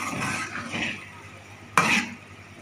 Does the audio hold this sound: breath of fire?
no